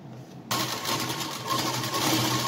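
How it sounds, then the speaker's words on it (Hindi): A sewing machine starts suddenly and runs steadily, close and fairly loud, putting a second line of stitching along the edge of a small cotton frock for a Laddu Gopal idol. "तो मैं यहाँ पर एक सिलाई और लगा देती हूँ किनारे पर"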